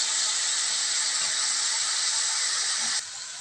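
Watermelon rind frying with panch phoron in oil, a continuous hissing sizzle at moderate level that drops slightly near the end, with no voices.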